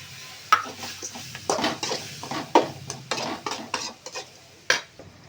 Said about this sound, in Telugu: స్మెల్ పోయేంత వరకు బాగా కలిపెట్టుకోవాలి